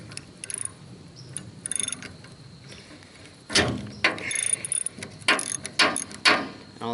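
Ratchet socket wrench with a 7/16 socket loosening bolts on a baler, bursts of quick clicking ratchet strokes close by, growing louder and more rapid in the second half.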